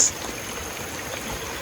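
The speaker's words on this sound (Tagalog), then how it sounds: "Ang ganda na ng daloy," A stream flows over stone steps into a natural pond, swollen after heavy rain, giving a steady close wash of trickling water with no voices.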